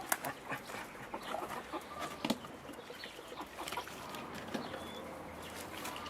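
Hens cluck softly in a backyard coop, with scattered short calls and rustling over a steady low background, fairly faint and continuous throughout.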